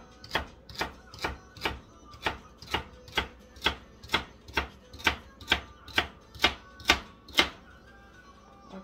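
A knife chopping leek, zucchini and onion on a board, about sixteen crisp, evenly spaced strokes in a steady rhythm, close and clear with no talking.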